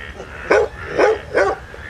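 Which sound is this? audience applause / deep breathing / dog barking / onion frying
dog barking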